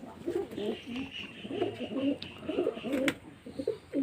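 Pigeons cooing in a loft, repeated soft rolling coos close by, with several birds overlapping in a steady rhythm.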